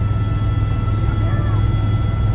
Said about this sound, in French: L'hélicoptère de sa classe le plus silencieux au monde.